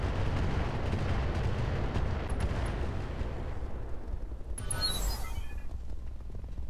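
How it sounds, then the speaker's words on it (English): Rockets fired by a mech in Roguetech make a continuous rumbling barrage of launches and blasts, dense and booming, with a brief sharper crackle near the end and no voices. "Oh, you decided to use all your rockets on that guy."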